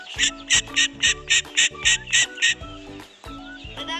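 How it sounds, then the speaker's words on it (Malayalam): A duck quacks loudly about nine times in a quick, steady rhythm, then gives a few softer, scattered calls. "നമ്മുടെ താറാവ്"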